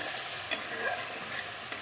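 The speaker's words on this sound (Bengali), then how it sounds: "বন্ধুরা দেখো মশলাটা কষানো হয়ে গেল।" Spice masala frying in a pan while being stirred, a soft continuous sizzle with a few quick scraping strokes, close and quiet, no voices.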